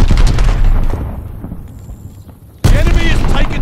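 Heavy gunfire and explosive booms erupt around a hardpoint in Call of Duty: Vanguard, loud at first, easing into a quieter lull, then bursting back abruptly with fresh shots and blasts.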